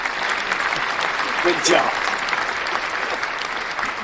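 Applause rings out through the whole stretch, a steady broadband patter during an NFL kickoff show, with a voice speaking briefly over it.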